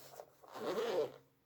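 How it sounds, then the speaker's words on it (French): A zipper on a fabric pencil case holding 120 Action aquamarkers is pulled open in one smooth, close rasping run lasting about a second, with a brief tug before it and no talking. "la fermeture éclair fonctionne super bien"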